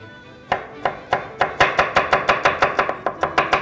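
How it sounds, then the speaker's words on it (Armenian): A knife chopping garlic into large pieces on a board, with sharp distinct strikes that start slowly and quicken into a steady rapid rhythm, close and clear with no talking. "Եվ սխտորը ես կտրատեմ"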